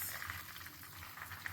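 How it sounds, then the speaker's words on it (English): Fish fillet frying in a pan for a burger, giving a steady, soft bubbling sizzle of hot oil that runs evenly throughout with small crackling pops and no voices. "It's been frying for 8 minutes."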